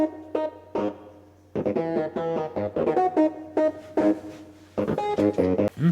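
A Roland JD-990 synthesizer plays a lead line, close and dry, in a choppy rhythmic pattern of bright, buzzy stabs separated by short gaps.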